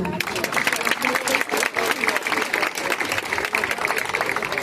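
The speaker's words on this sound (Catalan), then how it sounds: "Un aplaudiment." A crowd at a Catalan town festival proclamation gives sustained, dense applause that runs steadily for several seconds, with faint voices mixed in.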